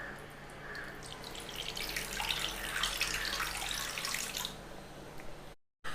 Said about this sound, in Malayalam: കുറച്ച് വാളൻപുളിയുടെ വെള്ളം ഒഴിച്ചു കൊടുക്കാം